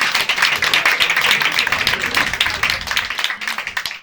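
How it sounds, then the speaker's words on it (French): An audience breaks into lively, dense hand clapping for the parents of two children, close and loud. The applause thins slightly toward the end. "Applaudissez ceux qui ont 2 enfants."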